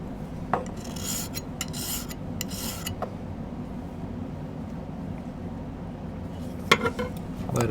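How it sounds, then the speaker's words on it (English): A metal file works a silver ring in three close bursts of rhythmic rasping strokes, then a quiet stretch broken by light clinks of metal on the bench. "I'm going to do a little bit of filing to kind of even this out"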